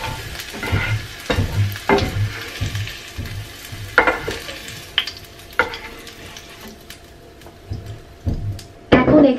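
Winter vegetables for an egg and cauliflower curry sizzle in hot oil in a pan, with repeated scraping stirs and clacks of a spatula over a steady frying hiss.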